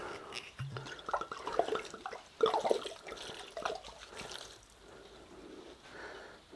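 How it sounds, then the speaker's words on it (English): Red wine poured into a pot of venison stew being slow cooked in a pizza oven, a gurgling liquid splash in a couple of short bursts, close by, then fading into quiet. "And then I've got my red wine. That can all go in."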